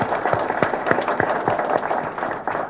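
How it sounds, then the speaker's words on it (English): Audience applause at the inauguration of a ZF tech center in Hyderabad, with distinct individual claps in a loose, moderately sized crowd, heard alone without speech. "the entire family of ZF deserves a huge round of applause."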